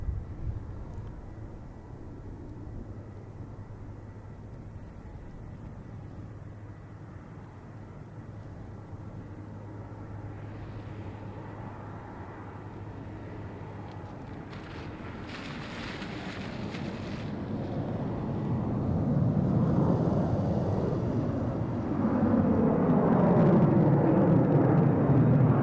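A Delta airliner at Boston Logan Airport, a broad jet-engine roar that builds steadily from a low rumble into a louder, rising rush toward the end, with distant airport background noise throughout.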